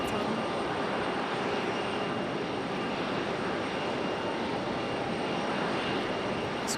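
A jet airliner's engines roar at Raleigh Durham International Airport, a steady broad rushing drone heard from a distance with no talk over it.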